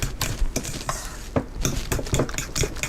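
Banana bread batter made with vegan mayonnaise is stirred in a bowl, giving a run of quick, close scraping and clinking strokes with no talking.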